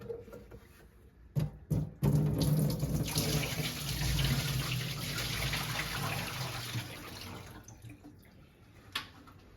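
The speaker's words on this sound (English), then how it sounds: "and then pour it out." Water poured out of a wide reverse osmosis filter tank, a few clunks of the lid, then a steady close splashing stream that tapers off into drips.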